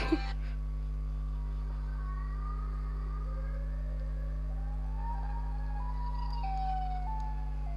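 A wavering, wailing siren-like call bends up and down in pitch over a steady low electrical hum, faint and distant, with no talking.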